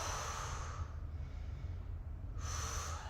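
Heavy breathing during an arm workout with abs held tight, two loud breathy exhales at the start and end with a quieter stretch between, close and alone.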